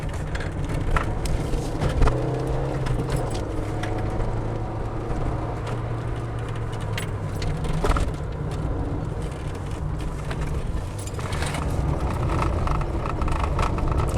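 A Peugeot 205 drives along a road and is thrown sideways, its engine droning steadily with shifting pitch and road noise, close and continuous throughout.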